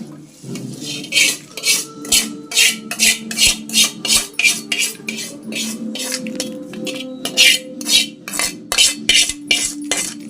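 A metal spoon scrapes and clinks rhythmically against a bowl, mixing tempering into chilli pickle in steady repeated strokes, close and clear with no talking.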